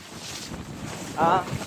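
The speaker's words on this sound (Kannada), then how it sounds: "ಸಿಕ್ಕಾಪಟ್ಟೆ ಗಾಳಿ ಬರ್ತಾ ನೋಡಿ" Strong wind gusts across an open spot by the buttermilk pond at Antharavalli, a close, rumbling roar of wind against the microphone with a brief voice-like sound partway through.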